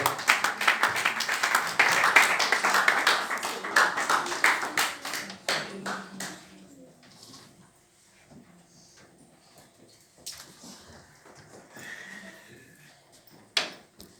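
A church congregation at a Sunday service claps rhythmically for about six seconds, loud and crowded at first, then fades to scattered taps and quiet murmuring, with one last sharp knock near the end.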